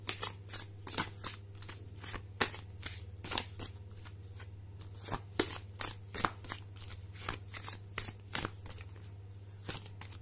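A deck of oracle cards is shuffled by hand in a fast, rhythmic run of papery riffles and snaps. The shuffling is fairly quiet and close over a steady low electrical hum, with no speech.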